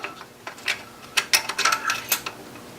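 Bolts being fitted by hand to the lower secondary chain guide of a 2004 BMW 325xi engine during a rebuild, heard as a series of close, sharp metallic clicks and clinks in irregular bursts, with no talking.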